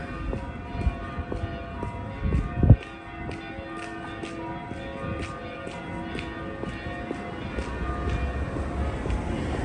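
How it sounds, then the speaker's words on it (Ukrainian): Church bells of the Holy Trinity Church in Dnipro's old town ring out at a distance in a slow, regular series of struck tones over a low background rumble. "Колокольний дзвін."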